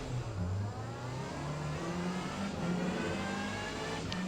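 A Subaru Levorg GT in Forza Motorsport accelerating hard off the race start at the Nürburgring, its engine revving up with gear changes, loud and steady with other cars close by.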